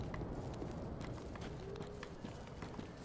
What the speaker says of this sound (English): I thought I heard incoming footsteps.